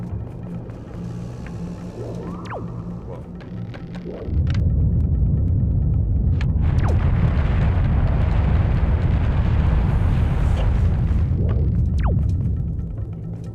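A bomb explodes in The Legend of Zelda: The Wind Waker on GameCube, a sudden loud burst after a few quiet seconds that swells into a long rumbling roar, then slowly fades.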